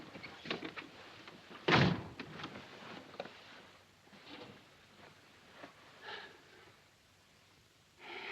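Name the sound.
door being shut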